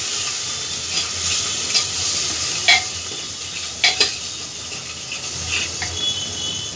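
Masala frying in a pan for a potato and pea curry hisses with a constant loud sizzle, broken by a few short scraping stirs of a spoon, close up and free of talk.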